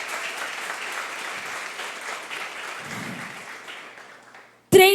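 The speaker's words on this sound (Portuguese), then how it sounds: "Se você crê nisso, dê um aplauso ao Senhor" A church congregation applauds together in a steady, broad wash of clapping that thins out toward the end, cut off by a brief loud burst.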